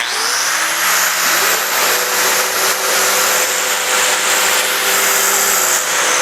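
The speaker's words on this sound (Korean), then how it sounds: "지금 청소기가 계속 돌아가고 있고" A 1600 W wet-dry vacuum cleaner runs in power-tool-linked dust collection mode, its motor giving a loud, steady whine with a high tone that holds unchanged throughout.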